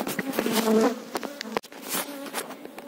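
Honeybees buzz close by at an opened, very strong beehive, a dense insect drone with a few sharp knocks from handling the hive.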